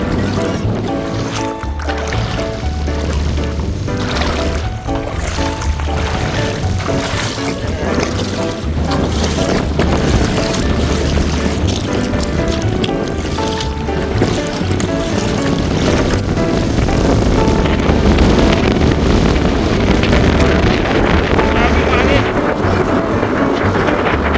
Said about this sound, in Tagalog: Grabe yung hangin guys kung naririnig niya.